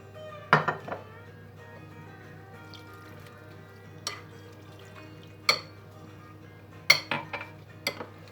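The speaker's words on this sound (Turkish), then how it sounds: "Güzelce karıştıracağız arkadaşlar." Utensil clinking against a bowl while minced meat is mixed with black pepper and cumin for Kastamonu-style etli ekmek, with several sharp clinks and scrapes over a quiet kitchen background.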